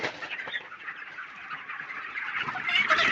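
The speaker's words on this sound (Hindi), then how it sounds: "ये रही एक मुर्गी," Dense chatter of many hens clucking together, continuous and busy at close range, with no voices.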